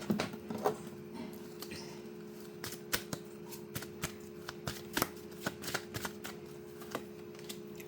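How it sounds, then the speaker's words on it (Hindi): Tarot cards are shuffled by hand in rapid bursts of crisp, close riffling and flicking clicks, starting and stopping in irregular runs with no voices. "और कार्ड्स निकाल के देख लेते हैं"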